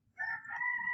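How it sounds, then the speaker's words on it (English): A rooster crows once, a loud, sustained call with strong harmonics rising and holding steady, close by over a faint low rumble of background noise. "The roosters also agree."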